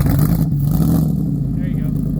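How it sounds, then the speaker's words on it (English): The engine of a Factory Five Gen 3 Coupe kit car rumbles loud and close in a deep, steady idle-to-rev drone, with people talking over it. "Give it a rev."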